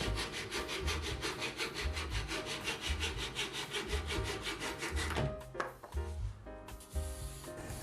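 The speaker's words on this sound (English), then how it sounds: "Cutting off the excess off the wing." A hand saw cuts through excess wood on the wing of a handmade birdhouse with quick, even back-and-forth strokes, close and loud, before the sawing stops and a few light knocks follow.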